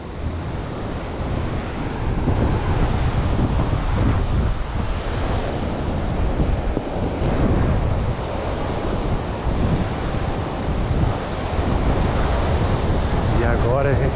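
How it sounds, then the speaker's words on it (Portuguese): Rough ocean surf crashes steadily at Praia do Francês beach in Alagoas, a continuous loud roar of breaking waves mixed with heavy wind buffeting the microphone. "com o mar um pouquinho mais bravo já"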